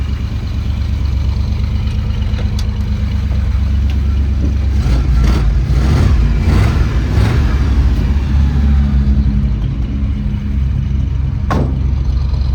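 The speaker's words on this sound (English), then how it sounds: "here she is, running like a top" Pickup truck engine running steadily at idle, a loud close rumble with a deep low throb and a few brief mechanical rises and clicks, no voices over it.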